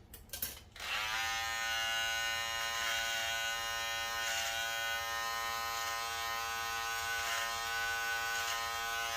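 Electric shaver trimming close around a beard, a steady high-pitched buzz that starts after a brief click and holds nearly unchanged for about eight seconds, close up, with no talking.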